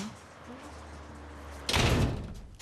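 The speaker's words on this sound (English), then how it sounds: "Does he have to bang the door like that?" A door slides and bangs shut with a loud, rushing thud after a short stretch of quiet room noise.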